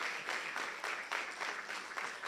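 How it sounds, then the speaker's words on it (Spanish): An audience at a lecture on the constitution of La Rioja province, Argentina, applauds in a dense, even wash of clapping with a slightly pulsing rhythm, close and steady throughout with no talk. "aplaudan porque es lindo"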